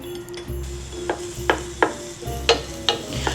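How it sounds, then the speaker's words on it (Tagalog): Onions frying in a little oil in a hot pan for adobo, a soft sizzle underneath repeated sharp clinks and scrapes of a utensil stirring against the pan. "So, mag-heat tayo ng pan, konting oil, onions."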